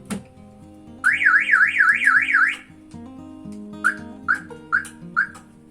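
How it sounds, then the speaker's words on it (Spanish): An electronic alarm siren warbles rapidly up and down for a second or so, then four short chirps follow in quick succession, clear and close. "aquí voy a encender la alarma"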